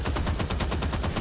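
Rapid automatic gunfire in a capture-the-flag video game match, a steady fast stream of loud shots with no pauses.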